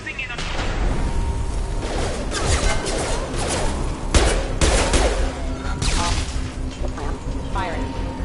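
Sci-fi gunfire from the Mass Effect Legendary Edition video game, Shepard's squad fighting security mechs: dense bursts of shots and impacts over a steady battle din, with voices calling out amid the fighting.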